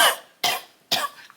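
Three loud, harsh coughs from one person in a bedroom at night, evenly spaced about half a second apart, close and alone with no other sound.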